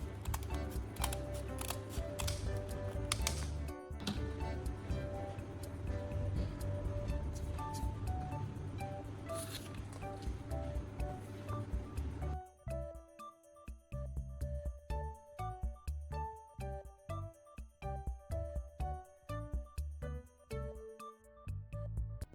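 Scissors snipping away excess sandpaper stuck onto a homemade knife-sharpening tool: a quiet run of close, crisp cutting clicks and rustles, first under soft background music, then more distinct and rhythmic as the music thins out.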